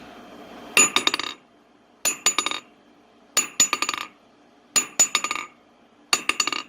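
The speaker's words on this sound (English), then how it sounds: "here's a hammer bounce" A hammer dropped on an old restored anvil rings and bounces five times, each drop a bright metallic clink followed by quickening rebounds, spaced evenly with silence between.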